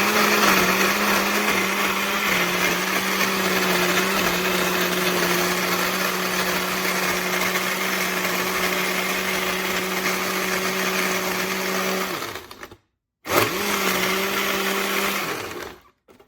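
An Oster Classic Series 16-speed blender with a glass jar crushes ice and fruit. It runs loud and steady for about twelve seconds, stops briefly, then whirs again before cutting off, with no talking.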